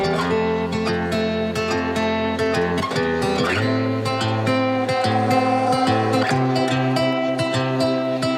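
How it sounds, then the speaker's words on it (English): A ship's engine on a small river, a loud, steady droning hum layered with rhythmic knocking pulses, running continuously without any voices. "That is the sound of a ship outside of this small river."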